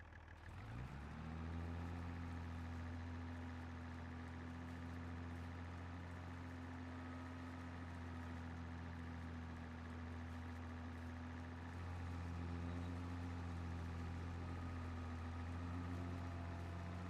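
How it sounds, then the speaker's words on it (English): Tractor engine in the farming video game Farming Simulator 22 runs at a steady idle, a continuous low drone with an even hum that holds unchanged throughout, with no speech. "The tractor seems to be doing okay."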